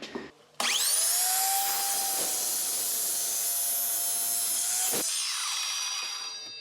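A power saw cutting wood pieces for a large under-bed rabbit cage, spinning up with a sharp start and holding a loud, steady whining buzz for several seconds before stopping and winding down.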